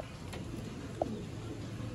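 A Sialkoti pigeon, a red-pearled Master Abdullah strain, gives a single soft coo amid quiet low rumbling room noise.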